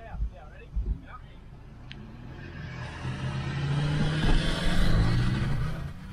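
A Ford Bronco and a Jeep Wrangler launch from a drag race start, engines rising from idle into a building, rumbling acceleration that grows louder toward the end, with a couple of brief voices or knocks at the start.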